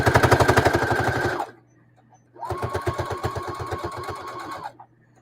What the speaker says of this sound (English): So I'm just edge stitching to make it look nice.